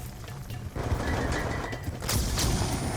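Video game gunfire from Call of Duty Black Ops 2, a dense and loud burst of overlapping automatic shots and impacts that runs without break and swells near the end, with no talk.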